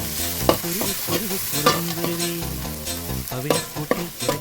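Crushed garlic and ginger fried in a pan while being stirred, a steady close sizzle with repeated scraping strokes of the spoon and occasional clinks, with tonal music playing underneath.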